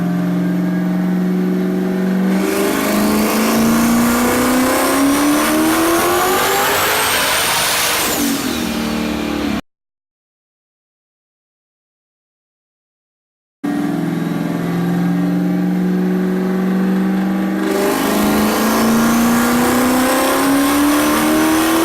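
Htek's Kochina car runs on a dyno with big boost, its engine revving up in rising pulls that sweep higher in pitch, with a silent gap between two loud runs and no talk.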